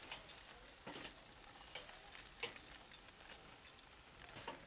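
Chilli and garlic tiger prawns sizzling on a barbecue grill, a faint, steady crackling hiss with occasional small pops and flicks, heard alone.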